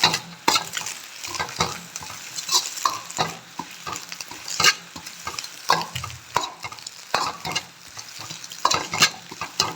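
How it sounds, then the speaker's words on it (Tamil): Carrot, capsicum and cabbage are stir-fried in a hot pan for chicken rice, with loud close sizzling and rapid, irregular spatula scrapes and clatters throughout. "கேரட் கொடமிளகா அப்புறம் வந்து கோஸ் இதையும் வந்து கொஞ்சம் நல்லா வதக்கி விடுங்க"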